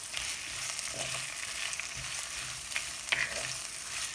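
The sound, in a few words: onion frying in a pan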